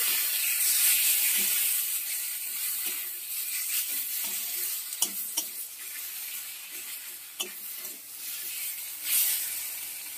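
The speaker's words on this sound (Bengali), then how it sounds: "এবার একটু নাড়াচাড়া করে নেব" Turmeric and Kashmiri chili powder are stirred in a hot pan, giving a steady soft sizzle with occasional scraping clicks and taps, no speech.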